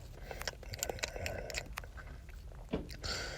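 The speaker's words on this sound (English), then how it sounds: "if you hear chewing in the dark, it's just me finishing the gummy worms" Someone chews gummy worms close to the mic, soft wet bites and squishes repeating irregularly against a faint room hiss.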